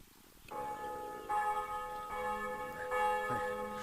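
Church bell tolling with long ringing overtones, several strikes layered over one another at a steady, moderately near level, with no voices present.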